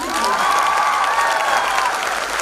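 A hall audience at a recognition program in Indore applauds steadily, dense and loud clapping with some cheering, while a faint tonal sound and a brief voice ride above it.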